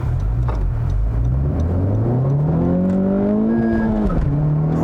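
A 2020 Honda Civic Type R engine pulls hard under acceleration, revs climbing and dropping through a gear change with a brief tire chirp into second gear, loud and close with no talking.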